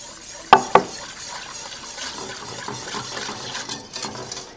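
A whisk works through chicken pot pie sauce in a metal pan, two sharp clinks against the pan at the start, then soft continuous stirring and scraping swishes.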